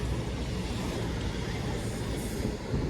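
A train on the Newcastle to Plymouth service passes at Dawlish, a steady close rail roar and rumble filling the whole stretch with no voices heard.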